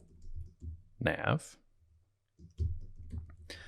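Soft clicking keystrokes on a computer keyboard while CSS code is typed, a few light taps spread across the moment, with a person speaking over part of it.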